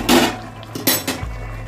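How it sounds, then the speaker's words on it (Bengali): A metal lid is lifted off a cooking pot of simmering aloo dum, giving a close, loud clank followed by a second lighter clink and a low background rumble. "ঢাকাটা খুলি।"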